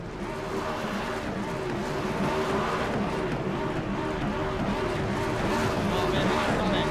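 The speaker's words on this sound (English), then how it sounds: "He's just revving here." A NextGen Cup race car engine revs at an All Star Race event at the LA Coliseum, a steady loud mechanical roar with rising and falling throttle under continuous crowd and commentary noise.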